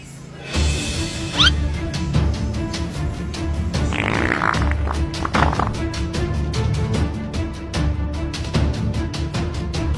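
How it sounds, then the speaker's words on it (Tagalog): A fart sound effect in a comedy skit, a loud, rough, sputtering burst followed by a run of rapid rhythmic pops and clatter that continues to the end. "Utot na pinasok sa rep, tumigas."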